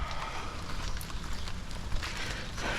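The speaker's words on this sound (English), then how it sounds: "It's starting to come down pretty hard now." Hard rain comes down outdoors on a rainy Fourth of July, a loud, hissing broadband patter with scattered heavier splashes, continuous and close, with no talking.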